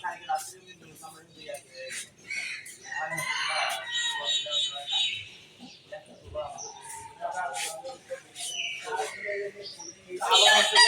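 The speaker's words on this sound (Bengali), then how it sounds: "দেখো মুরগি কেমন খায় আমার" Chickens cluck and call in a busy yard, with a rooster-like crow mixed in and a person talking intermittently over the flock.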